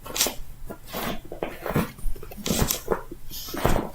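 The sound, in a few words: pet dog rustling while making his bed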